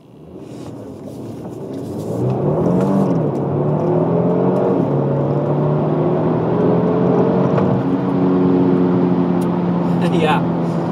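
A 2018 Kia Stinger GT 3.3 V6 AWD in sport mode builds to a loud, sustained roar as it accelerates, the pitch climbing through gear changes, close and continuous.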